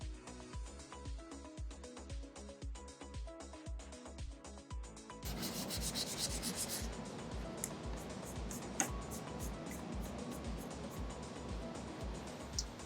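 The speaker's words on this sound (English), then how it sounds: "we're going to go in circles in one direction to randomize the sanding" Sanding Terreon solid surface material in circular strokes by hand, a steady rhythmic rubbing and scraping that grows louder and brighter partway through, close up.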